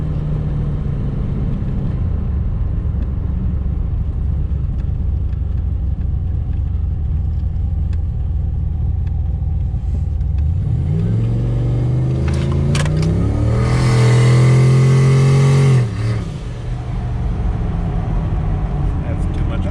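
An LS-swapped GMC Syclone truck running on about 7 pounds of boost accelerates hard after a steady low rumble, its engine note sweeping upward loud and close before an early shift cuts it back, with people talking inside the cab.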